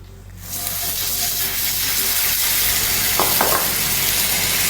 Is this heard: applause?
no